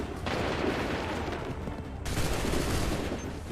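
Massed musket volleys from soldiers in Assassin's Creed III, two dense bursts of crackling gunfire, the second starting halfway through, loud and continuous with rumbling echoes.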